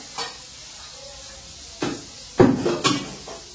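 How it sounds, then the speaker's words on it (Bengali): Cabbage frying in a pan on a home stove, a faint sizzle with a few soft scrapes and clinks of stirring utensils against the pan, close and quiet. "এদিকে বাঁধাকপিটা ভেজে নিচ্ছি।"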